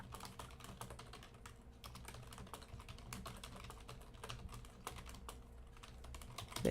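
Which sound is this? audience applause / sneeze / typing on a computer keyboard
typing on a computer keyboard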